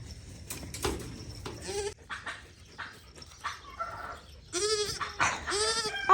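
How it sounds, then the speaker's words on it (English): Goats on a Wisconsin farm bleat in several loud, wavering calls, some overlapping, with rustling and scattered shorter cries between them. "I love goats."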